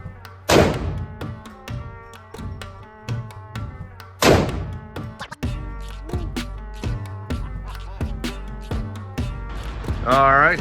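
A gold-plated .50 caliber Desert Eagle pistol fired at a shooting range: two loud, close booming shots about four seconds apart, each followed by a ringing decay, with people talking between them.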